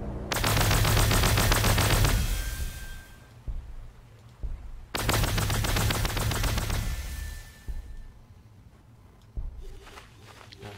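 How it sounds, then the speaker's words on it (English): Rapid bursts of automatic gunfire from the Warhammer 40,000: Gladius strategy game, two long loud volleys a few seconds apart with a short crackling tail, no voices heard. "And now we're going to gun him down."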